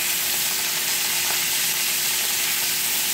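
Salmon fillets, just turned over, fry in a pan with a steady, close sizzle that holds evenly throughout, with no voices.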